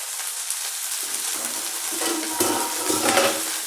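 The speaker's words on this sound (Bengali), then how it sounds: "এই পাতায় যে রস থাকে সেই রসটা একটু কড়ায় সর্ষের তেল দিয়ে অল্প করে রসটা শুকিয়ে নেবো" Washed coriander leaves are stirred in mustard oil in a pan, a quiet steady sizzle with soft scraping stirs that grow a bit busier toward the end, close and without talking.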